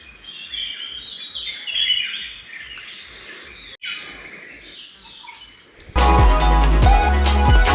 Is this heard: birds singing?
yes